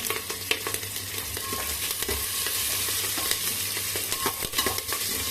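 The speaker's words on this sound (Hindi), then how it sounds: "यहीं पे हम हरा मिर्चा भी डाल देते हैं।" Green chillies sizzle and fry in a pan for a chole samosa dish, with a steady hiss under repeated scraping and stirring clinks of a spoon against metal close by.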